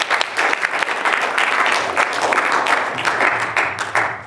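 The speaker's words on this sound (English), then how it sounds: "a round of applause for David" Audience at a book festival poetry reading applauding a poet, a close, loud, dense round of clapping with individual claps distinct throughout.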